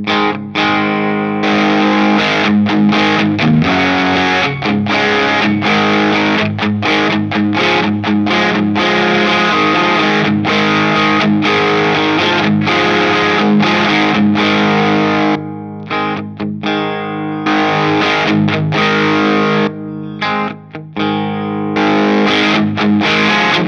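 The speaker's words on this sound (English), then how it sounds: "I'm going to turn the distortion all the way up now." Electric guitar played through an MXR Distortion+ pedal with the distortion fully up into a Strymon Iridium, loud sustained fuzzy chords and riffs ringing continuously with brief gaps.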